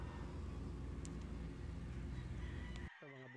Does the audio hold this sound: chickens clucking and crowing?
yes